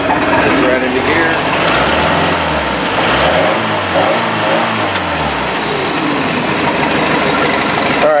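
A MerCruiser boat engine with a two-barrel carburetor and brass float runs steadily in gear, a loud, continuous low rumble with wavering pitch throughout.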